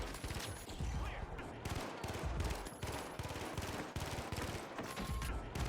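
Rapid gunfire in The Finals video game, a steady stream of automatic shots with sharp repeated cracks over about six seconds, fairly quiet in the mix with little talk.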